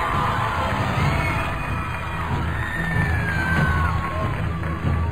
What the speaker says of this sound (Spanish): quiero que le demos un aplauso enorme desde Buenos Aires a este rockstar